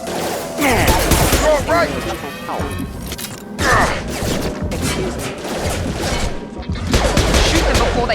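Rapid gunfire bursts and crashing impacts in a Mass Effect 2 combat scene, loud and dense throughout, mixed with a short spoken line and game chatter.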